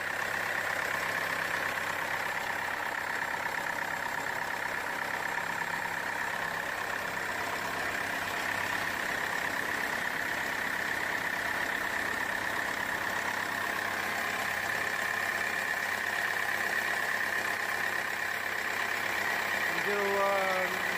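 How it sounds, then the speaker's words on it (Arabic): A car engine idles with an irregular rhythm while the radiator is losing coolant through the reservoir cap. It makes a constant, fairly quiet drone with a steady hum and no clear revving, running alone throughout. "هذه الدورة تاع المحرك، لا يكون نورمال"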